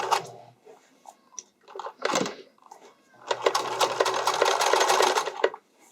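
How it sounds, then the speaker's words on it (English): Sewing machine stitching across the underwire of a bodysuit, with short stop-start bursts of needle chatter followed by a longer steady run of rapid stitching, close and clear. "And very carefully sew across everything."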